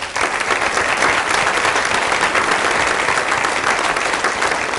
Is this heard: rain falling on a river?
no